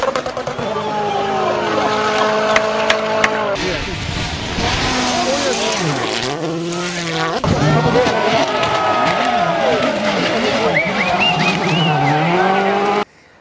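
A Kia Soul with 100,000 km on it is driven hard on a test drive after servicing. The engine revs rise and fall through repeated acceleration sweeps, loud and close, with brief gear-change dips.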